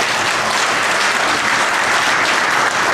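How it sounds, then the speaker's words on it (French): A large crowd at a political gathering in Togo breaks into loud, dense, continuous applause that holds steady throughout. "je vous demande de l'applaudir"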